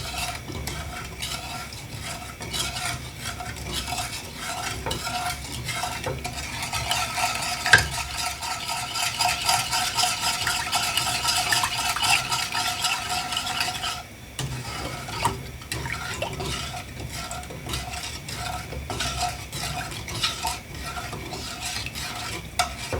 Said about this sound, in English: the organic sugar goes in, and we're just going to stir that to get it to incorporate fully into our mixture